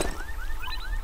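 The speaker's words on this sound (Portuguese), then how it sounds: "Este som tipo de alarme." In a video game, an alarm-like tone repeats as short rising chirps, four or five evenly spaced sweeps over a low rumbling background, moderately loud with no speech.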